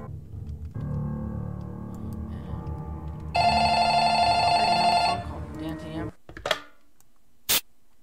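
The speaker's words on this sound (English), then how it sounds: "Did someone pick up the phone?" A telephone rings in a Roblox horror game, a bright electronic ring that repeats steadily over a low background hum, followed by a few brief sharp sounds.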